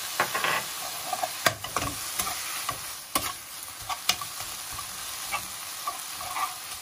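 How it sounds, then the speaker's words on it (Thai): Pork being stir-fried in a pan for a Thai pork curry with wild garlic leaves, a steady sizzle broken by repeated scraping strokes of a spatula against the metal, close and fairly loud with no talking. "ในระหว่างที่ขั่วหมู"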